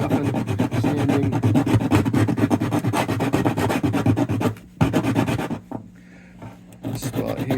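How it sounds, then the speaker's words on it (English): Steady, even sanding scuffs rasp back and forth across a surface, close and continuous, with a short pause near the end before the rubbing resumes. "we'll give this thing just a light little scuffing, sanding"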